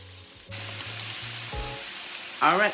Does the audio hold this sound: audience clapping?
no